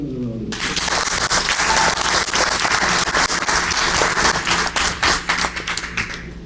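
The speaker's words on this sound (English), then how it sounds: "So give him another round of applause." An audience at an anniversary event breaks into loud, sustained applause after a young performer plays a steelpan, a dense wash of clapping that swells and then gradually thins out, with a few individual claps standing out toward the end.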